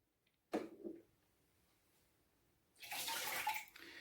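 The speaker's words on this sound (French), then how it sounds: "Et vous avez droit à une belle fuite." Water splashing and spilling out of a leaking Nespresso Krups Inissia YY1530FD espresso machine, a short gush followed after a pause by a louder, steadier rush of running water, close and with no voices.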